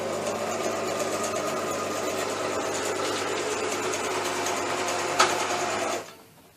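A sewing machine stitches fabric for a mermaid tail, a continuous fast mechanical whir with rapid needle chatter that runs steadily and then stops near the end, close and clear.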